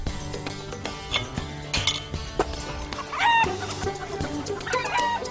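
Laying hens cluck in a backyard coop, a busy overlapping chorus of short clucks and calls with occasional clinks, fairly close and steady throughout.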